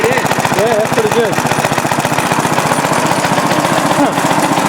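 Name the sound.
restored Briggs & Stratton NR6 engine running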